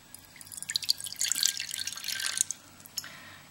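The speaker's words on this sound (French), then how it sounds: "J'ai plus qu'à mettre un petit peu d'eau dans leur soucoupe." A little water poured into a saucer in a tortoise terrarium, a short run of light, close trickling and dripping splashes lasting a few seconds, quiet throughout.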